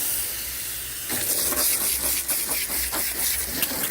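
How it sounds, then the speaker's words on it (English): Close, loud hiss of a hose spraying water, starting after a quiet moment and pulsing unevenly as the stream moves. "And so this is how I use the hose."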